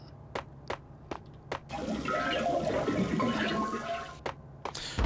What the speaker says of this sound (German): ein Wasserspender